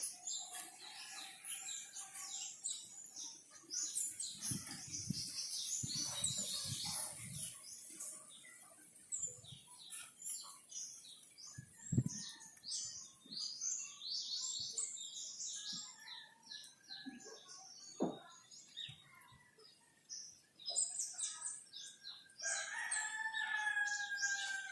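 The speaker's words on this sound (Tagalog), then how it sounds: "may mga huni ng ibon." Many birds chirp and call busily in the background, with occasional louder calls and some rustling, no one speaking.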